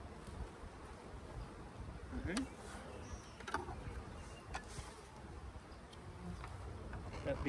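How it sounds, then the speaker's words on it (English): Many bees from a swarm buzz around a hive in a steady, fairly faint drone, with occasional sharper knocks and rustles close by. "Got bees in here, a lot of bees,"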